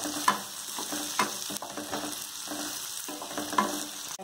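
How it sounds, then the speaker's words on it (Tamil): Onions sautéing in a pan until reddish for a small palakai kuzhambu, a steady close sizzle broken by a few sharp scraping stirs. "நல்லா செகப்பாக வதக்கிக்கணும் இந்த வெங்காயத்தை."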